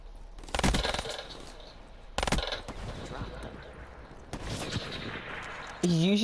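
Sharp sniper rifle shots in a first-person shooter game, three loud broadband cracks spaced a couple of seconds apart over steady game noise, with a brief voice near the end.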